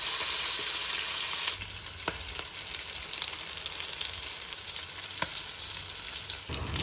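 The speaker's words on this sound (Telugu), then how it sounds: "ప్యాన్ తీసుకొని అందులో కొంచెం ఆయిల్ యాడ్ చేసేసి చికెన్ పీసెస్ని మంచిగా ఫ్రై చేసుకోండి" Chicken pieces frying in oil in a pan, a loud continuous sizzle with occasional stirring clicks and scrapes, close and steady throughout.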